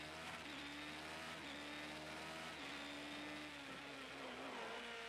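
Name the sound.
race car engine roaring in Project Cars 2 video game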